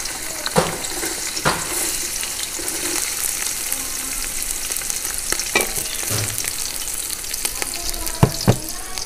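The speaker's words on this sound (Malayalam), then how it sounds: "അതിൽ കുറച്ച് ഓയിൽ ഒഴിക്കുക. എന്നിട്ട് കുനുകുന അരിഞ്ഞ വെളുത്തുള്ളി, ഇഞ്ചി, അതുപോലെ തന്നെ ഇങ്ങനെ അരിഞ്ഞ പിന്നെ പച്ചമുളക്," Finely chopped garlic, ginger and green chilli frying in oil for a kizhi porotta filling make a loud, close, crackling sizzle, punctuated by repeated knocks and scrapes of a spoon against the pan.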